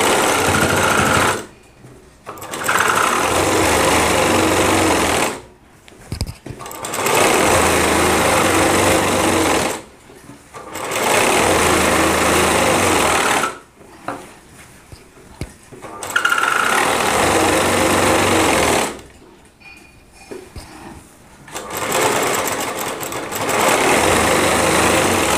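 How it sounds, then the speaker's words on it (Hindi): An electric sewing machine stitches lehenga fabric in long, loud, steady runs of fast whirring, broken by brief pauses every few seconds as the cloth is repositioned. "इसके बाद हमें यहाँ पे सिलाई लगा देनी।"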